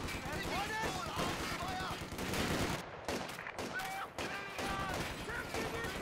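Machine gun fire and other gunshots crackle in Company of Heroes 2 during a 2v2 match, with repeated rattling bursts and scattered explosions under continuous commentator talk.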